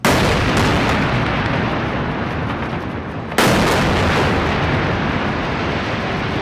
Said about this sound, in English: This is the moment an Israeli missile strike destroyed a high-rise building housing the Associated Press, Al Jazeera, and other office spaces and homes in Gaza on Saturday.